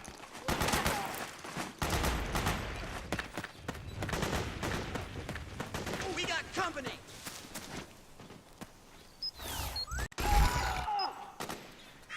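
Gunfire in the video game Metal Gear Solid 4 crackles in rapid bursts amid battle noise, with shouted voices mixed in and a sharp impact near the end, fairly steady throughout.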